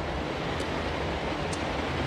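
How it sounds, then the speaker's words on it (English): River water rushes in a constant, even wash of noise, soft and unbroken, with no voices. "The sound of the water is kind of lulling the steelhead."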